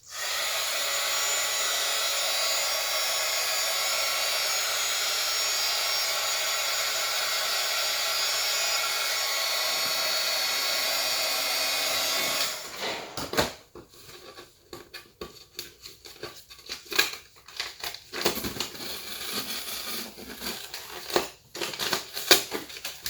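A hair dryer or heat gun blows a steady, loud whoosh for about twelve seconds to soften the glue on a shipping label. Then it cuts off and crackling, peeling paper sounds follow.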